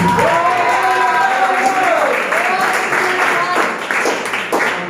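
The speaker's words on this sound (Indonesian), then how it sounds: "Tepuk tangan untuk Tuhan." A church congregation applauds at a worship service, clapping building beneath a sustained sung or called-out voice that slides in pitch, with crowd noise and cheering mixed in.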